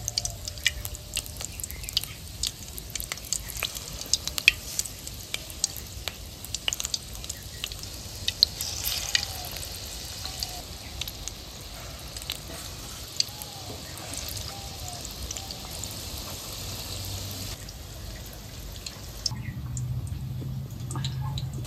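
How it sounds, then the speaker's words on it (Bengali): Quiet, steady sizzling and crackling of thin pakora batter frying in hot oil, with scattered small pops and spatters throughout and a soft background hiss. "এই দেখুন তেলে দেওয়ার সাথে সাথে কি সুন্দর ফুলে ফুলে উঠেছে দেখুন"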